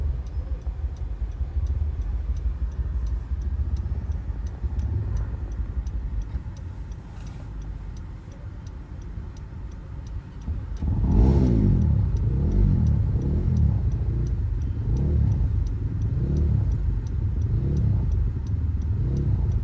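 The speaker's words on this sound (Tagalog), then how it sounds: "Traffic." Road traffic with cars passing, a low rumbling engine roar that swells louder midway as a vehicle goes by nearby, with faint ticking in the background.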